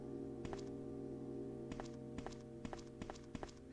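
A block being pushed in the Resident Evil game gives a series of dull thunks and scrapes over a steady background hum, with about six or seven soft, evenly spaced knocks.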